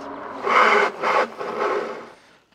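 A harsh scraping rasp of a Vitilan U7 electric bike braking hard, in three quick grinding bursts that fade out as the wheels come to a stop.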